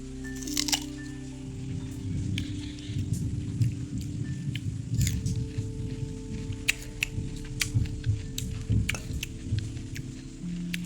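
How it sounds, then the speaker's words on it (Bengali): Close-up, wet squishing and chewing of a mashed food mixture with many sharp little clicks and crackles, spread irregularly over a low steady hum. "চলো আমরা মাখাটা খেয়ে নিই"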